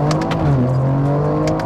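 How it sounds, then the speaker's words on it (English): A modified BMW M3 engine hums steadily up close, with short airy hissing bursts of turbo blow-off and intake suction near the start and end. "it's like a blow off valve when you let off"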